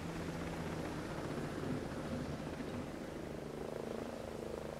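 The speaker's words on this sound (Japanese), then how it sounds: "ヘリ来てる。" Helicopter rotor drone in the video game Ghost Recon Breakpoint, a steady, continuous low whirring that holds level throughout as it approaches, with no voices over it.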